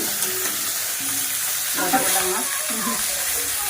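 Fish fries in a pan with a steady close sizzle and occasional stirring, while soft voices murmur in the background.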